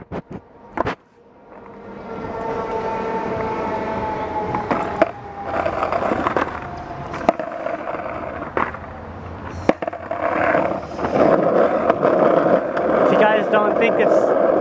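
A skateboard rolls down a steep hill with a rising, steady rumble of wheels on pavement, broken by sharp clacks and bumps, while a person talks over it.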